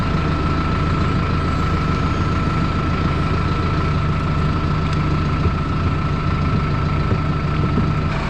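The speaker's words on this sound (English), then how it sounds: "while we're waiting on this tractor to warm up." A tractor engine idles steadily while warming up before a cattle round-up, a loud, continuous low rumble with a constant hum and no pauses or speech.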